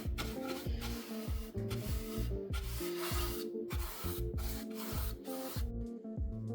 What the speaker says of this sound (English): I'm going in with some Howard feeding wax to condition the wood. I'm just using a large round brush to apply it